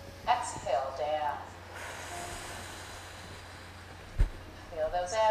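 A group of people exhales together during a breathing exercise at a Parkinson's disease voice aerobics class, a broad soft breathy rush lasting a couple of seconds, with an instructor talking before and after.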